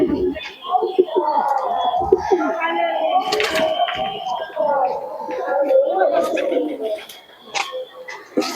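Domestic Madras pigeons, a breeding pair kept in a home loft, coo with low rolling calls that run almost continuously at close range, with someone speaking over them throughout.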